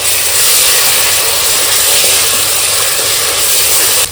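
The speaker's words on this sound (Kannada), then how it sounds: "ಈ ಶುಂಠಿ ಬೆಳ್ಳುಳ್ಳಿ ಪೇಸ್ಟನ್ನು ಹಾಕ್ತೀನಿ. ಇದು ಕೂಡ ಜೊತೆಯಲ್ಲಿ ಫ್ರೈ ಮಾಡಿದ್ರೆ ಒಳ್ಳೆ ಫ್ರಾಗ್ರೆನ್ಸ್ ಬರುತ್ತೆ." Ginger garlic paste fries with onions in a hot pan for chicken biryani, giving a loud, continuous, close sizzle and hiss that holds evenly throughout.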